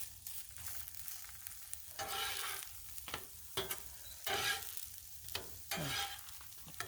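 Onions and peppers sizzling on a Blackstone griddle, a quiet close hiss broken by several brief bursts of scraping and tossing with a spatula, no talking.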